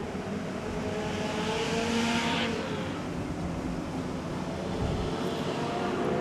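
Modified race cars roar around a track in New Zealand, a dense continuous wall of engine noise with cars sweeping past, loud and steady throughout.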